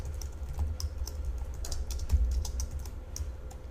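Fast, irregular keystrokes on a computer keyboard, steady clicks running throughout at moderate level with no voices.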